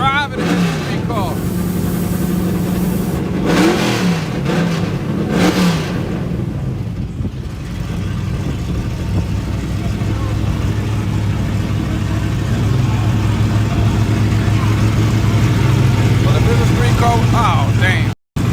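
A street car engine revs in bursts early on, then settles into a loud sustained low drone, with people talking over much of it before it cuts off abruptly at the end.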